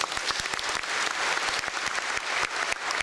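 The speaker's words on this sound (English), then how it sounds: "a round of applause for all of them" A church congregation at a Catholic Mass bursts into steady, dense applause, many hands clapping together at an even level throughout, with no voices over it.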